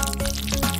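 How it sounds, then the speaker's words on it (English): Water poured into a small toy aquarium, a short continuous splashing pour close by. "Just don't forget to add the water."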